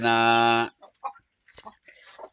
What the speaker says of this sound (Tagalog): mayroon po tayong mga sisiw dito na pinapalaki